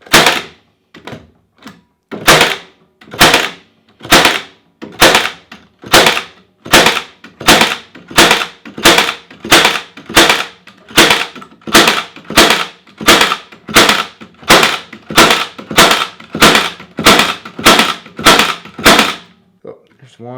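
A Milwaukee M18 cordless brad nailer fires in bump actuation mode, giving a long, steady run of about two dozen sharp, loud, close snaps at an even rhythm, with no talk.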